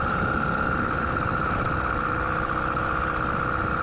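A 100cc two-stroke motorized bicycle engine runs steadily while riding on loose gravel, a continuous buzzing drone with wind rumble, close and fairly loud, with no talking.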